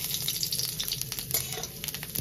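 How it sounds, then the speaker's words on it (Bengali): Cumin seeds dropped into hot oil in a pan for ghugni, giving a steady crackling sizzle with scattered sharp pops, close and continuous. "তেল গরম হয়ে গেছে, জিরেটা দিয়ে দেবো।"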